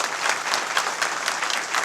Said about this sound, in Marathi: एकदा जोरदार टाळी वाजली